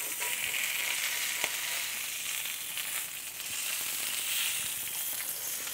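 Skin-on salmon fries in a pan, its skin crisping under a steady, bright sizzle with a small tap partway through and no talking.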